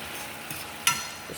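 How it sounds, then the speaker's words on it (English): Vegetables for a turkey burger dinner sizzle softly in a hot pan as they are stirred, with a couple of faint scrape and clink accents over the steady hiss. "just stir it up, give it a little good stir."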